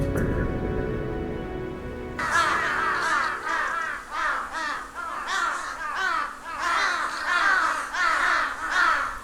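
A flock of crows caws repeatedly in a winter forest, harsh overlapping calls coming in irregular bursts, fairly close and loud, with no speech.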